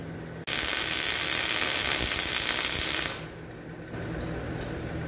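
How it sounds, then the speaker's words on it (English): A bolt being welded onto a shock absorber shaft: a loud, steady crackling hiss starts abruptly and holds for about two and a half seconds, then drops to a quieter background buzz. "Now I'll weld this side and pull it out and weld the other."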